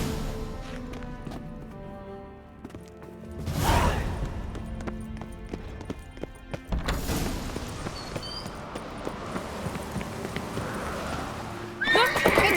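Horses in The Witcher 3 on Skellige: a loud neigh, then galloping hoofbeats and another whinny, with game effects between and no talk.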